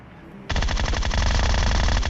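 Groza assault rifle fire in the PUBG Mobile shooter game: after a quiet lead-in, a loud, sustained rapid burst of automatic shots rattles on for well over a second, close and dense.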